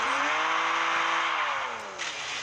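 In the mobile game Car Parking Multiplayer, a car drifts with a loud, sustained tire squeal over a revving engine whose pitch slides down, ending with a short burst of added screech.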